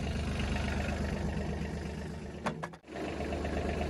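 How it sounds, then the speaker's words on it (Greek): A small tractor engine idles nearby, a steady low mechanical chug that runs throughout. A brief clatter comes near the end, followed by a short dip in the sound. "βάλαμε μπρος το τραχτεράκι"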